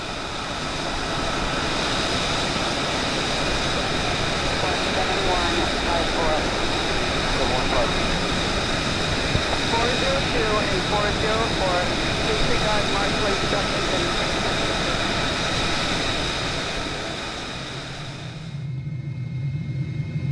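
F-35 Lightning II jet in Microsoft Flight Simulator, starting up and taxiing toward runway 01: a steady, loud turbine whine over deep rumble holds for about seventeen seconds, then drops away sharply near the end.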